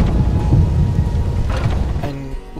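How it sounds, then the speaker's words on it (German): Steady heavy rain hisses throughout with low rumbling thunder rolling underneath, a brief louder crack near the end, in the video game Skyrim. "Na gut, es regnet."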